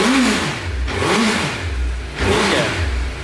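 A Suzuki Hayabusa motorcycle on its stock exhaust revs hard three times, each throttle blip rising and falling in pitch between short idle dips, loud and close with no talking.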